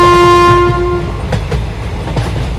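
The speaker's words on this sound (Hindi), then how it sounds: "गुल्ली बुल्ली और सोन के ट्रेन से उतरते ये ट्रेन चली जाती" A train pulls away from a station, a loud steady horn tone fading within the first second into rumbling wheels and rhythmic clacks on the rails, close and alone.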